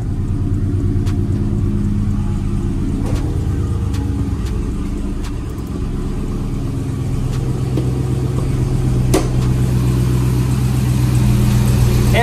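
A brand-new Dodge 392 Scat Pack V8 idles nearby with the hood up, a deep steady burbling rumble throughout, with a few light blips and clicks over the low throb.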